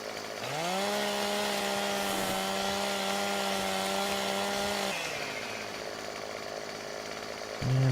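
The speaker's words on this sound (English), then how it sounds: "I still have to use the chainsaw for doing the, you know, getting the limbs off of there, which I think I'll do right now on this tree." A chainsaw in Farming Simulator 17 revs up loud and holds a steady high drone while cutting limbs off a tree, then drops to a lower idle before a brief final rev.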